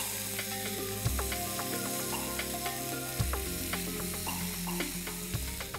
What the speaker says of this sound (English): And now we'll give it a quick mix.